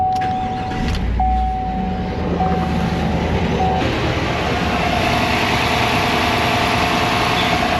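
A car with 182,932 miles on it starts up, then settles into a loud, steady idle that runs on without a break, with no talking over it.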